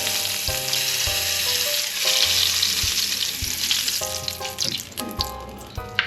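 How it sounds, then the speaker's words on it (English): Venison searing in a very hot pan, a loud continuous sizzle and crackle with a few clinks and scrapes, close up and without talk. "To sear meat, any type of meat, you have to have the stove or the pan as hot as you could"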